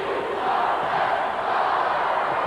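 Crowd noise from spectators at a 1992 high school basketball game, Steelton vs Whitehall in a PIAA AAAA Eastern Semifinal, a steady loud roar of cheering voices throughout.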